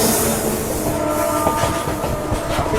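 A freight train rushes past at speed near Rangiya railway station in Assam, a loud steady roar of wagons with rhythmic clatter and faint wheel squeal running throughout, no voices.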